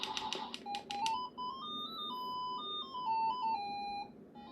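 Electronic beeps from a car racing game on an RS-100 handheld brick game Tetris console: a quick burst of staccato bleeps, then a stepping monophonic tune of clear square-wave tones, close and steady.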